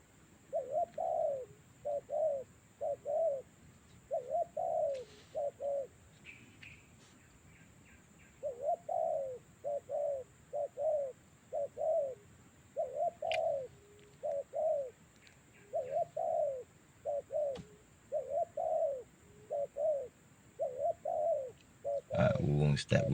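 Doves coo in repeated soft phrases of several notes, moderately close, with brief pauses between bursts over a faint background hiss.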